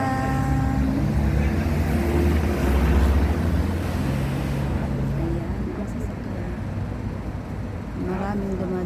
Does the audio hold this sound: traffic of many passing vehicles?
yes